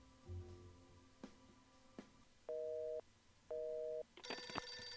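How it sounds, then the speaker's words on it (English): Telephone in the video game For the People rings as two steady electronic tones with a pause between them, faint clicks before, and a brighter game chime at the end. "Another phone call from the party line."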